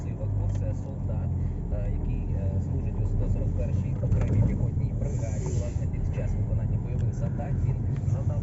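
Volvo V50 1.6 diesel with a six-speed manual gearbox pulling away, heard from inside the cabin as a steady low engine and road rumble, with someone talking over it.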